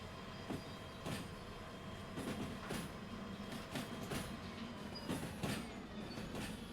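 A train rolls along the track in the Derail Valley railway game, a faint steady rumble with periodic clacks from the wheels and a thin squeal running underneath.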